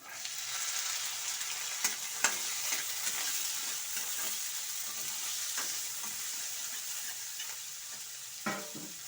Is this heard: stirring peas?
yes